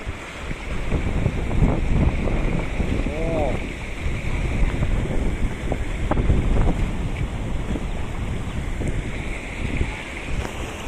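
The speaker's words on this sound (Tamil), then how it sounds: "நல்ல ஃபோர்ஸாக வந்துட்டு இருக்குது தண்ணி" A river runs forcefully after rain and close to overflowing, a loud continuous rushing roar buffeted by wind against the microphone, with occasional faint voices.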